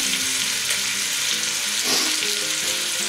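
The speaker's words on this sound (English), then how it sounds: "we'll keep that going for a minute or two until the meat's a little more browned" Floured chunks of steak for a British steak pie brown in a hot pan, giving a continuous loud sizzle and frying crackle with a brief stir partway through.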